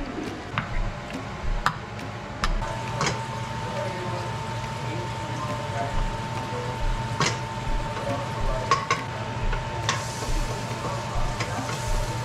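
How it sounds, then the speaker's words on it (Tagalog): Onion and garlic sauté in a pan with a continuous sizzle, while the utensil scrapes and clinks against the pan at irregular moments and a faint hum sits underneath. "Nagbigisa ako ng sibuyas at bawang."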